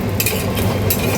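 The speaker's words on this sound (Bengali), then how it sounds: "তাওয়ায় ঘিটা দিয়ে দিলাম।" Ghee sizzles on a hot tawa griddle, a loud, close, continuous crackling hiss with small bursts of spitting throughout.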